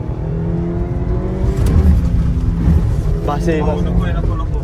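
A car being driven around Alibaug gives a steady, low engine rumble that fills the whole stretch, with people talking over it.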